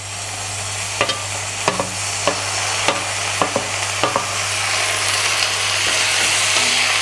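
Onions and tomatoes sautéing in a pan for Chettinad kara chutney: a steady sizzle with sharp spoon scrapes and clicks against the pan early on, a low hum beneath, the frying hiss swelling toward the end.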